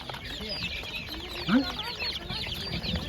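Seven-day-old chicks at a poultry market cheep and peep in a dense, continuous chorus nearby, with a muffled voice briefly rising in the background.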